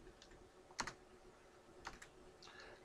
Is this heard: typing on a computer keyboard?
yes